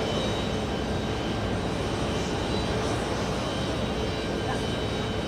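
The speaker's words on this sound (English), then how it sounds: "It's a takeoff on 4 left." A jet airliner takes off at JFK airport, a broad, steady roar of engines carrying on for several seconds, heard from a distance under a continuous noisy wash with some voice mixed in.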